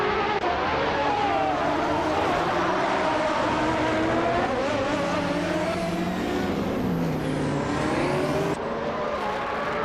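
Classic 1984 Porsche 962C Short Tail racing at Marina Bay Street Circuit in a video game, with a loud, continuous engine roar from a dense field of cars, pitch climbing and dropping through gear shifts.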